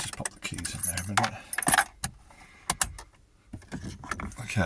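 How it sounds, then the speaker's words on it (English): Car keys for a Jaguar XF jangle and clink close by in several sharp bursts, with pauses between the rattles and a little quieter handling noise. "Let's just pop the keys in there a minute."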